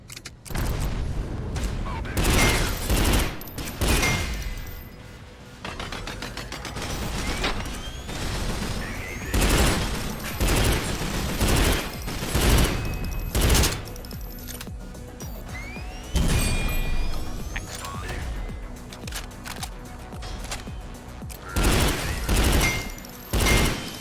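Turret gunfire in the shooter video game Synthetik comes as dense, loud bursts of shots and heavy booms that repeat through the stretch, with speech at times between them.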